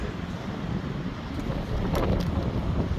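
Blustery early-morning wind at Gordons Bay on the Cape coast buffets the microphone as a steady, rough low rumble, fairly quiet and continuous with no talk.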